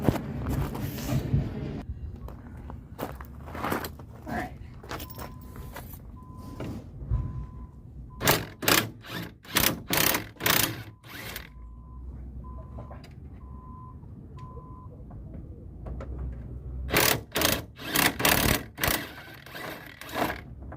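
Impact wrench on a bolt-busting setting removing bolts from a 1977 Ford F350 in a junkyard, with repeated loud rattling hammering bursts separated by pauses and a faint electronic beep in the middle, with no talking.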